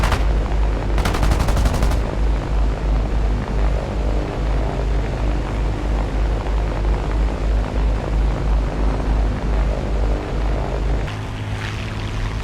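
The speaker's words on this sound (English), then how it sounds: "Gunners frantically try to shoot down the enemy fighters" A B-17 bomber's machine guns open fire on enemy fighters: a loud, dense burst of rapid automatic shots over a constant heavy engine drone, then the droning roar carries on alone, with a brief change near the end.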